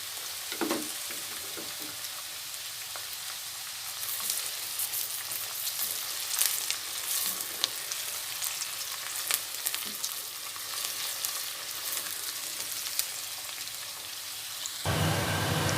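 Onions and garlic frying in a pan, a soft continuous sizzle with scattered crackles and pops, fairly faint and steady throughout.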